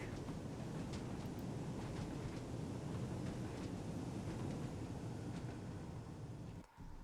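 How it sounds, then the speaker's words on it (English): Mark II passenger coaches rolling along the track in the Train Sim World simulator, a steady loud low rumble with rhythmic clatter running continuously, briefly dipping near the end. "I love the sound of those Mark IIs rolling there."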